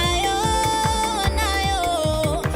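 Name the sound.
music mix playing before stereo imager is applied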